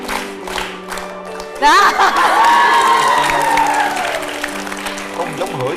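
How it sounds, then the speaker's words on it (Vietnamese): A studio audience on a TV dating show breaks into applause and cheering, with a mother clapping along. The sound swells abruptly and holds loud under lively talk and laughter. "Đó má vỗ tay luôn rồi kìa"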